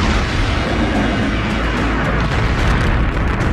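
Asteroid bombardment battering the planets and moons of the inner solar system rolls out as a loud, dense, continuous roaring rumble of impacts with no pauses or talk.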